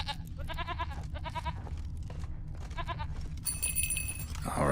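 Goat bleating in The Witcher 3 video game, several short wavering bleats in quick bursts over a steady low game ambience, moderately near, with no speech.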